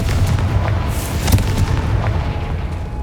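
Confringo explosive spell from Hogwarts Legacy, a deep booming blast with a rumbling burst and crackling debris, loud and close, with no talking.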